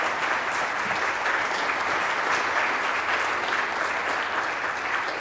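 Audience applause at a church celebration fills the room, steady sustained clapping from a sizable crowd.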